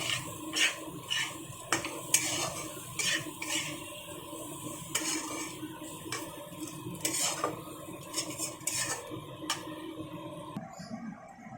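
Irregular metallic scrapes and clinks of a utensil stirring patol (pointed gourd) in a pan, with a steady background hum and faint sizzling, no talking.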